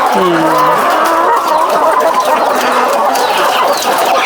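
Chickens kept in a cage built from old wire mesh, clucking and calling steadily at close range over a busy background of other birds and farm noise.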